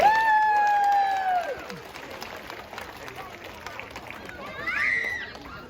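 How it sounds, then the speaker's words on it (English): Audience applause at a seal show at Taronga Zoo in Sydney, moderate clapping and cheering from an outdoor crowd, with a whistle-like tone at the start and a brief high squeal near the end. "why don't we give him another big round of applause"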